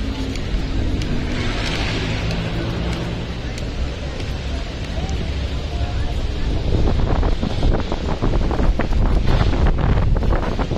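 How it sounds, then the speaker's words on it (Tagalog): Steady wind roars and buffets outdoors along the Quezon Bridge esplanade, a constant rushing blow that grows slightly rougher toward the end. "Ang sarap ng hangin dito mga bayan."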